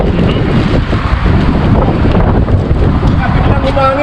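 Strong wind buffets the microphone during a group motorcycle ride near San Jose, producing a continuous loud rumbling roar.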